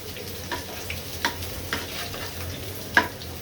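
Onion, garlic, dry chilli and bay leaf fry in hot oil, a soft steady sizzle broken by a few sharp scrapes of a spoon stirring, the loudest near the end.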